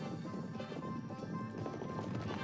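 Racehorses gallop in a close pack, a dense, continuous drumming of hooves with fast irregular beats under a busy, full background, loud and sustained.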